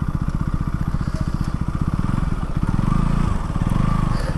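A KTM Duke 200 is ridden along a road, its engine a close, continuous throbbing drone that thickens and grows slightly louder toward the end, with no talk over it.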